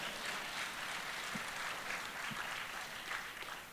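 Audience applause at a Big Brothers Big Sisters of Metro Atlanta gala, a steady, even wash of clapping that holds for several seconds at moderate loudness with no voices over it.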